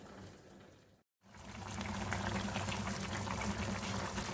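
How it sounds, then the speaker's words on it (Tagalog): Chicken liver adobo boils in a pot with a continuous bubbling simmer, close and steady, briefly cut out near the start before the rolling boil resumes, with no talk. "So, yaan lang po natin na kumulo."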